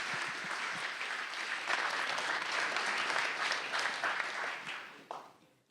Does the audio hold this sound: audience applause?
yes